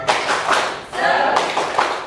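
A school class performs a rhythmic spirit clap in an Indonesian classroom: several sharp, patterned bursts of many hands clapping together, close and loud, with faint voices mixed in.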